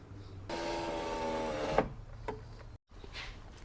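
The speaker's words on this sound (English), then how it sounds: "lower the window all the way down" A 1998 Lexus LS400 rear door power window motor whines steadily for just over a second as the glass lowers, then stops with a faint clunk, followed by a few light handling noises.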